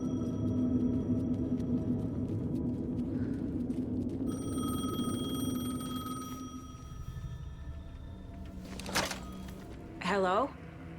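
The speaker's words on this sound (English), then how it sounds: "The payphone was ringing." A payphone rings in the Alan Wake II game, a steady electronic ringing tone in repeated bursts behind a low droning score, followed by a click and a short sharp electronic warble.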